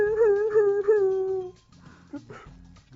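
Voices in a group lesson imitate sad dogs, giving a long mournful howl with whimpering rises for about a second and a half, followed by quieter shuffling and murmurs.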